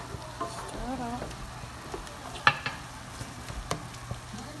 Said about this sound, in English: Stirring it up, you guys. Getting my turkey meat ready.